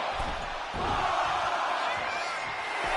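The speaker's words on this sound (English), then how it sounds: "And Jade is getting the crowd going." Wrestling arena crowd cheering and roaring in a steady, dense wash that swells slightly after the first second and holds loud throughout, with no single voice standing out.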